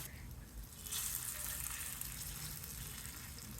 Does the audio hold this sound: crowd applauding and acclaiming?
no